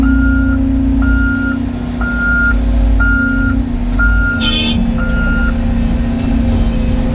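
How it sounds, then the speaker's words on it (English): A truck returns to a pond-digging site, its engine rumbling steadily under six evenly spaced reversing beeps, with a brief hiss partway through. "And now we wait for the truck to return."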